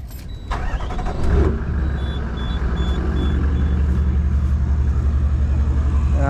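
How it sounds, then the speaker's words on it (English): A parked car is started and left idling to power a boat trailer winch in a backyard, a brief starter whir and clunk followed by a steady low engine rumble, close by, with a faint intermittent beep. "I'll just turn the car on because that gives the winch power."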